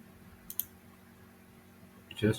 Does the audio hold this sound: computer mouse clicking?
yes